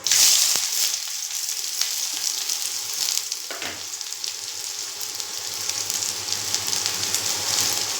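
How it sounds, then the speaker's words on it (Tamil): Onions going into hot oil with mustard seeds, giving a steady, close crackling sizzle that runs throughout. A brief louder burst comes midway, and no one speaks. "இப்போ வெங்காயம் போட்டுக்கலாம்."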